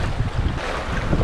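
Strong wind roars at sea aboard a fishing boat on a sea trout trip, a loud continuous rush of wind noise mixed with the slap of waves, with no talking.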